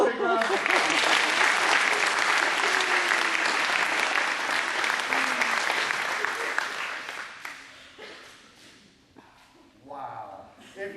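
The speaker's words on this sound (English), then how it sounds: "give them all a big round of applause" Teen audience at an after-prom hypnotist show in St. John, Kansas breaks into loud, dense applause that holds strong for about seven seconds, then thins and fades into scattered claps, with voices heard near the end.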